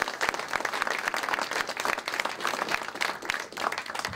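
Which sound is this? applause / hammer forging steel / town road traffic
applause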